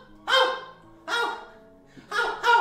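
A man imitates a dog, letting out four loud, hoarse barks with short pauses between them, the last two coming close together.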